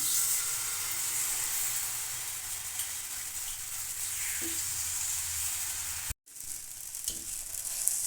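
Batter for a quick healthy breakfast dish poured onto a hot oiled tawa, giving a steady bright sizzle and hiss throughout, broken by a brief pause and then resuming.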